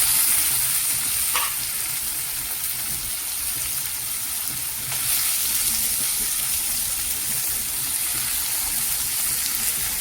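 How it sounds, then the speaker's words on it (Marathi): Onion and tomato sautéing in a pan for a quick garlic-fenugreek dish: a steady, soft hiss of frying that runs throughout at low volume, with no talking. "कांदा आपला छान गुलाबीसर परतला की ह्यात टोमॅटो घालायचा."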